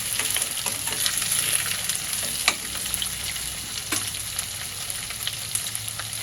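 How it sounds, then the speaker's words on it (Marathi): Three large lengthwise-sliced onions sauté in a pan until reddish, a steady close sizzle broken by occasional scraping stirs of a spatula, with no talking. "कांदा आपला लालसर होईपर्यंत आपल्याला परतायचा"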